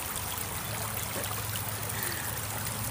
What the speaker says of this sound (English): Are you all able to hear the water behind?